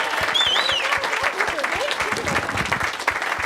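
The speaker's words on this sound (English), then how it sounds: "if we could have a big round of applause and a little this for Stephanie Strickland" Crowd applause breaks out at a live on-tour radio show event, dense and steady clapping heard close up, with voices and some cheering over it.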